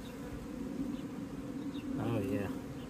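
Honeybees drone in a steady, close hum during a beehive inspection, with a person speaking briefly over the buzzing near the end.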